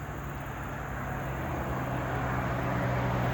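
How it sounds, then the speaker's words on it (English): Trucks pass on a road near a bed and breakfast in Helen, Georgia, a constant low rumbling roar that swells slightly, with no voices. "excuse the noise, trucks going by."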